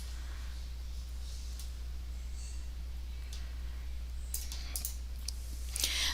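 Computer mouse clicking at a desk, a few faint, sharp clicks spaced irregularly over a steady low hum, with a small cluster of quicker clicks near the end.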